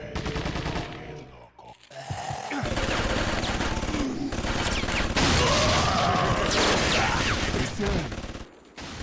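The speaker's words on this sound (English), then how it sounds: "I hear gunfire." Dense, rapid gunfire bursts from Resident Evil 4 fill the clip, loud and sustained, with brief pauses and crashing effects, and a voice speaks briefly.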